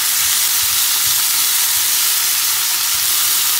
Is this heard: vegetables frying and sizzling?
yes